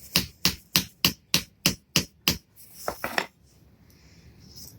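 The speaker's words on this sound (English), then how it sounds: "Okay, time to use the hammer, actually." A hammer taps down honey and sugar rocket fuel to pack it, eight sharp, evenly spaced strikes followed by a quicker cluster of lighter knocks, then quiet.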